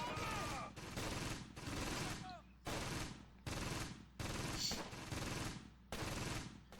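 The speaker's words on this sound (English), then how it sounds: "my guys down there started shooting" Soldiers' suppressing gunfire in the Close Combat: Gateway to Caen video game comes as repeated loud bursts of rifle and machine-gun fire separated by short gaps, fairly close, with some distant whistling sounds between them.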